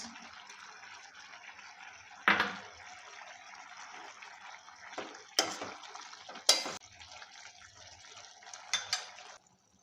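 Fried prawns tipped into a pan of banana flower curry, with a soft steady background hiss broken by a few sharp metallic clatters and scrapes of a utensil against the pan.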